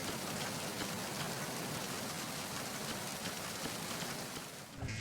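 Steady heavy rainfall in the video game Metal Gear Solid 2, played on an Odin handheld, a dense continuous hiss of drops on surfaces that thins out just before the end, with no voices.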